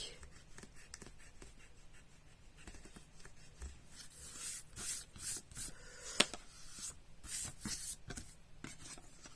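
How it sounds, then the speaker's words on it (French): A pencil eraser rubbing out marks on paper during a mini album craft project, quick soft scrubbing strokes, close and quiet, growing busier toward the end with one sharp tap. "Je vais vite gommer mes marques"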